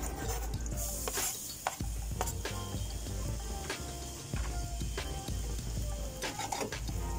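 Garlic sautéing in a pan while cooking chicken necks: a soft, continuous sizzle runs under scattered stirring scrapes and light clinks of utensil against pan, fairly quiet and close.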